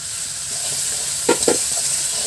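Water poured into frying spices (salt and turmeric, with cumin and chilli) for a sarpunti fish curry brings a steady close sizzle, broken by two quick bursts of loud spitting hiss.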